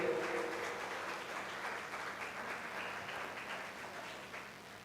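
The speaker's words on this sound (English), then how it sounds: "Give it applause for all the guests today." Faint, distant audience applause at an international English language teaching conference, a soft continuous patter of many hands that slowly fades over a few seconds.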